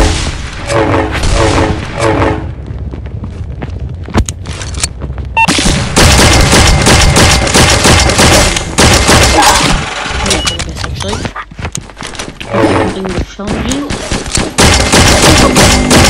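Gunfire and heavy booms from a shooter video game, with a short calmer stretch followed by long, loud, dense bursts of shooting and blasts that dominate most of the stretch, with game sounds and possible talk mixed underneath.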